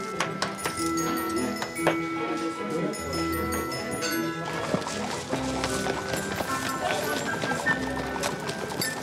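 Horse hooves clip-clop in a steady rhythm through the whole stretch, fairly close and clear, with people talking over the top and some background murmur.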